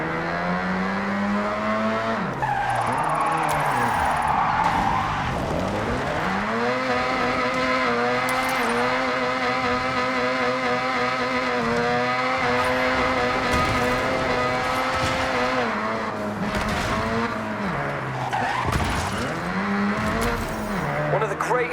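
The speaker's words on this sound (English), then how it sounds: "If you don't drift with style, it's just skidding." A car drifting in the Forza Horizon 6 video game, the engine revving and shifting up and down under long, loud, continuous tire squeal, with a voice talking over it.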